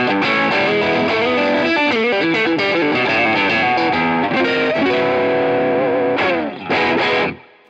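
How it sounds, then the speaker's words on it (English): Heavily overdriven electric guitar through an overdrive pedal into a Boss Nextone Special amplifier, playing chords and short riffs, gritty and saturated, loud and continuous before cutting off with a couple of final stabs. "that overdrive is that overdrive pedal in front of an amp sound"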